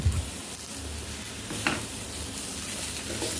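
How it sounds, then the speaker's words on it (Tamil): Tamarind is stirred into coriander chutney in a hot pan, making a continuous soft sizzle with faint scraping and stirring sounds, steady and close throughout. "புளி சேர்த்து எல்லா பக்கமும் நல்லா கிளறி விட்டுக்கலாம்."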